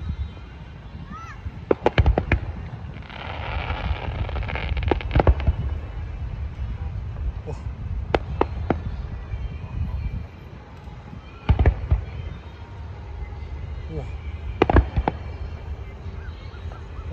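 Fireworks at an outdoor display pop and boom in irregular sharp bursts, some in quick clusters, over a rumbling crowd ambience with people talking and calling out.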